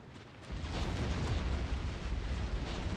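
Explosions in Factorio: Space Age, a dense, sustained roar of rumbling blasts that swells after a brief quieter start and stays loud and continuous to the end, with no talking.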